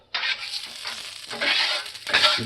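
Hot, smoking oil sizzles and crackles in a pan over medium-high heat for smash burgers, a steady close frying hiss that swells and dips alone.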